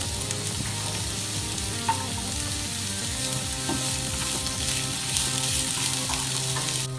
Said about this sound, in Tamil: வெங்காயம் பாதி அளவு வதங்கட்டும்.